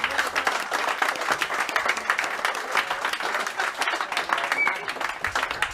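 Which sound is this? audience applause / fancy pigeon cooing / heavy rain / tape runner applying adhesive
audience applause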